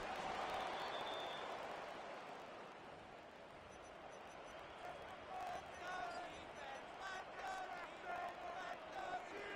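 A stadium crowd in an EA Sports Madden football game cheers as a steady, faint, distant roar, with a few brighter tonal calls rising out of the noise.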